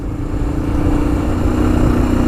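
A Royal Enfield Himalayan motorcycle with its standard exhaust idles with a steady, low thumping engine note, close and continuous, with no talking.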